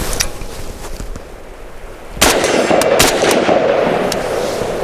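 Several sharp rifle shots from a WBP Fox crack close and loud at an outdoor shooting range, following a quieter stretch of low background rumble, with a few reports in quick succession.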